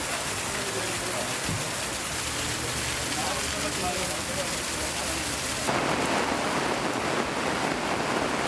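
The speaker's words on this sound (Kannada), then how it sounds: "ಮಲೆನಾಡು ಶಿವಮೊಗ್ಗದಲ್ಲಿ ಮತ್ತೆ ಮಳೆಯ ಅಬ್ಬರ ಮುಂದುವರೆದಿದೆ" Heavy rain pours down in Shivamogga in the Malnad region, a dense, loud, unbroken roar of downpour with deep rumbling underneath, dense throughout with no pauses.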